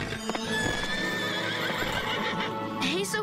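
Cartoon winged horses neigh and whinny over steady clip-clopping hooves, loud and close, with a sustained musical tone running underneath and no talking.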